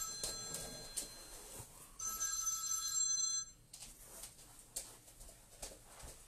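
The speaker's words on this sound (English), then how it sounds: "I've got the shop phone and I forgot to mute it" A shop telephone rings with a bright electronic trill in repeated bursts, loud for about two seconds and then broken off, over faint room noise and scattered clatter.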